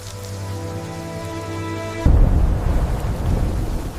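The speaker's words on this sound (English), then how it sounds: "The acid rain didn't stop for years." Heavy rain with thunder bursts in suddenly after a low droning stretch, then settles into a loud steady downpour with a deep rumble, no voices present.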